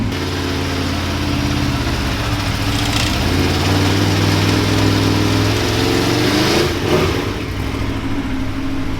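An Aprilia RSV4 APRC superbike runs loud and close in Islamabad while its tyres warm up, a steady throbbing engine drone with small swells in revs.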